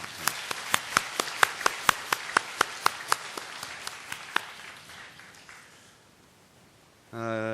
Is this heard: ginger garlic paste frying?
no